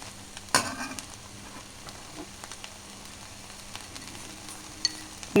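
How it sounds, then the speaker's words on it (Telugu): Drumstick leaves frying in a pan, stirred now and then, with a low steady sizzle and a few soft scrapes and clicks of the spoon, fairly quiet throughout. "మళ్ళీ ఒకసారి కలబెడదాం"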